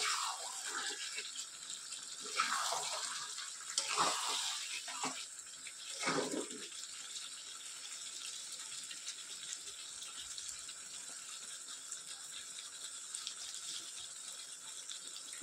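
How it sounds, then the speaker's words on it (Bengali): Water is poured into a pot of sautéed potato curry, giving a rushing, splashing pour in the first several seconds that settles into a steady hiss and bubbling simmer, close by and with no talking. "এখন আমি ঝোল দিয়ে দিব, জল দিয়ে দিব।"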